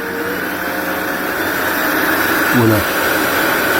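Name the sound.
pet grooming vacuum running at full power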